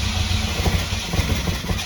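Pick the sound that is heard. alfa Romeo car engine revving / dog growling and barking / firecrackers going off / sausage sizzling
alfa Romeo car engine revving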